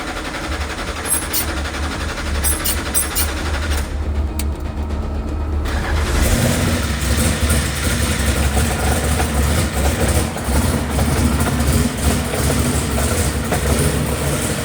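A NASCAR race engine cranks and fires about six seconds in, then settles into a loud, steady, rumbling idle that fills the rest of the stretch.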